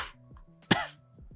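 A couple of sharp coughs burst out close and loud over quiet background music with a steady low hum.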